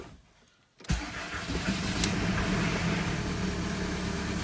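A cold MK4 VW Jetta TDI diesel engine cranks and fires after a brief near-silence, then settles into a loud, steady idle clatter that runs close to the microphone.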